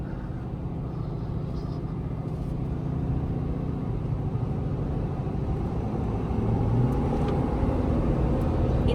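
Steady road and tire rumble from a 2024 Ford F-350 Tremor on 37-inch tires cruising a parkway at highway speed, a continuous low drone that swells slightly midway with no talking.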